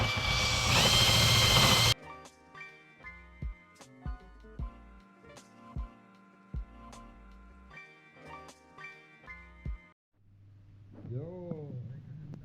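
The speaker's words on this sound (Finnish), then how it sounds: "Eiköhän aleta hiomaan." A power sander runs loudly on motorcycle parts for a Derbi project for about two seconds, then stops, leaving scattered clanks and tapping from the workshop and a voice talking near the end.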